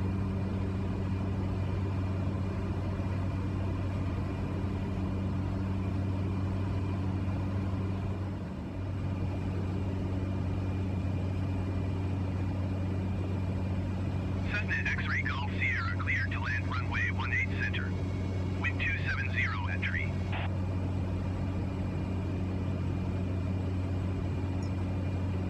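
Cessna aircraft engine in Microsoft Flight Simulator 2020 on a landing approach: a steady, loud droning hum with a low buzzing rumble that holds throughout, with brief chirping radio-like tones partway through.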